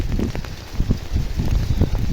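Steady rain falls near the microphone, a broad continuous patter with some wind buffeting and low rumbling gusts throughout, nobody speaking.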